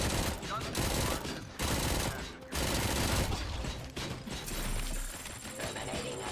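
Video game gunfire comes in dense rapid bursts with brief gaps between them, loud and close, and a voice is heard among the shots.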